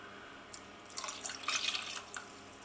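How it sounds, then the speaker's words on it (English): Cooking water is poured into a pan on the stove, a soft, splashing trickle that builds briefly in the middle and then trails off, heard up close and fairly faint. "Let's add this cooking water in."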